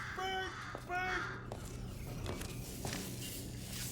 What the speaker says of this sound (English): that's probably the bird in it that laid the eggs